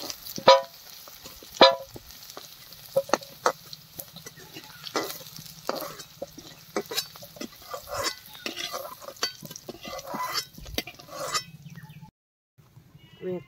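Small new-season potatoes fry in hot oil in a pan while a spoon stirs them, giving steady close sizzling broken by sharp scraping stir strokes, quieting near the end.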